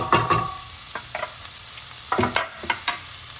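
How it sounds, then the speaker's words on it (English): Chopped onions sauteing in a pan for turkey bolognese, a steady close sizzle broken by several scraping stirs of a utensil against the pan, with no talking. "now that our onion is sauteing"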